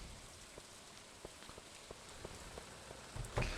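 Rain falls in Stardew Valley as a soft, steady hiss with faint scattered drop ticks, ending in a slightly louder patter near the end.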